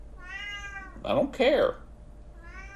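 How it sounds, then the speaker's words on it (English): A cat meows in long drawn-out wails close by, repeating several times, with a man's brief speech cutting in partway through. "I'm sure y'all can hear the annoying cat now."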